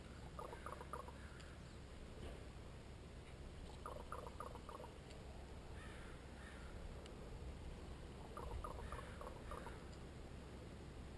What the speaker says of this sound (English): Interesting, these crows are all over.